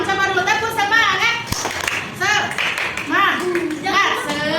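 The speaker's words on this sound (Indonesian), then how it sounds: "Oke anak ibu yang kelas 6 coba dulu tepuk semangat" A sixth-grade class in a combined-grade primary school claps a quick rhythmic pattern while the children chant loudly together, and the claps and voices blend in a lively, close burst.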